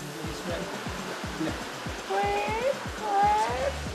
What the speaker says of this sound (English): we can actually hear a waterfall, which is just over there